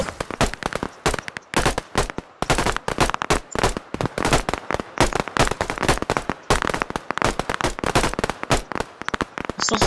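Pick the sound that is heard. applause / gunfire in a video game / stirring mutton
gunfire in a video game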